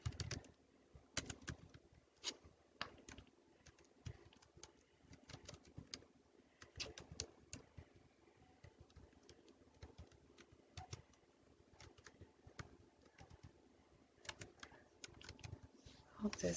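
Fast, irregular clicking of keys on a computer keyboard, close and fairly quiet, in bursts of rapid taps with short pauses and no talking over it.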